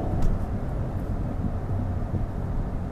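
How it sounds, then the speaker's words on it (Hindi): A Hyundai i20 N-line hatchback accelerating on the road, heard as a steady, droning engine and road rumble from inside the car, with no voices. "ये देखो मैंने एक्सीलेटर दबाया और देखो कैसे पुल कर दिया है"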